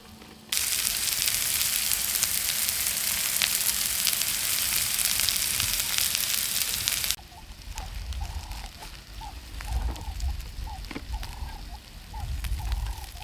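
Onions, green chilies and garlic fry in a pan at a campsite, giving a loud, dense sizzle that drops to a quieter crackle with bursts of stirring and scraping; no one speaks.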